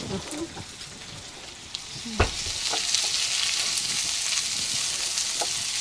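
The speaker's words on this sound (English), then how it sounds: "I'm going to add the garlic and Chili." Garlic, chili and spices hit hot oil in a pan for spicy meatballs, starting with a few stirring knocks and then settling into a steady, close, crackling sizzle that continues throughout.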